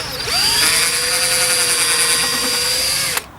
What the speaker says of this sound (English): I'm going to drill a small pilot hole